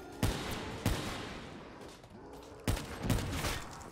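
Gunshots from a Drakon sniper rifle in Black Ops 3 Zombies, four spaced, sharp booming shots at irregular intervals, each with a brief echoing tail over quieter game ambience.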